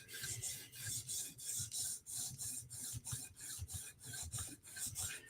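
A Tonto PM2 knife is drawn across a sharpening stone in a steady back-and-forth rhythm, about a dozen close, raspy scraping strokes with no talk.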